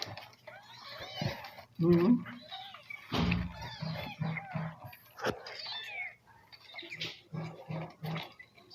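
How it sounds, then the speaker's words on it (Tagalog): A mother cat nursing a litter of seven kittens, with soft mews and small squeaking cries near the microphone. A person talks over them throughout. "Pinadedede ng kanilang Mami cat."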